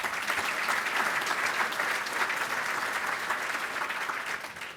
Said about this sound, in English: Round of applause for Provident